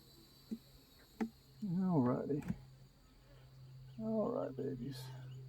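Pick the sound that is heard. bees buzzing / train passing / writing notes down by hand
bees buzzing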